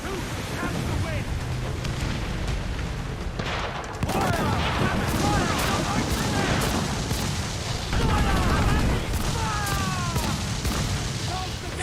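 Ship cannons in Assassin's Creed Black Flag boom repeatedly in a heavy, rumbling naval battle, with dense overlapping blasts and crackling debris, while voices shout throughout.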